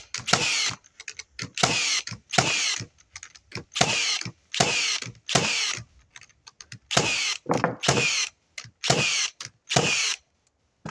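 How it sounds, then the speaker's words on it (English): A Metabo NR1890DC framing nailer fires nails into a pressure-treated pine post, about ten sharp, loud bangs in an uneven rhythm, each followed by a mechanical whir and short pauses between shots. "It's pine treated, and I'm just gonna shoot. I'm gonna run through about 10 nails."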